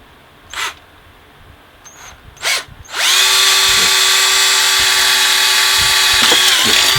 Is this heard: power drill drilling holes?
yes